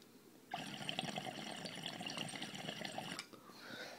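Water poured into a bong, a steady splashing trickle lasting about three seconds, close by and alone, ending abruptly.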